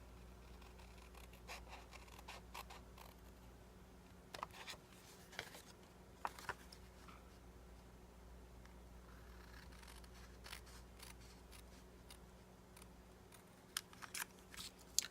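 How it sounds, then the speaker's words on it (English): Quiet, sparse scissor snips and crisp cuts through card stock scattered across a near-silent background, with a faint steady hum underneath. "I think it's just as easy to do it with scissors."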